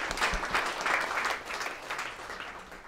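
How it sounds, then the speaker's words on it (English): An audience at a startup showcase gives steady, full applause throughout, dense clapping filling the room. "Let's give Nikhil a round of applause, please"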